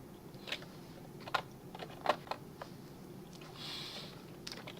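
Faint keystrokes on a computer keyboard, a few scattered clicks and taps with pauses between them, quiet against a low background hum.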